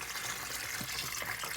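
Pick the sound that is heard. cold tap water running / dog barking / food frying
cold tap water running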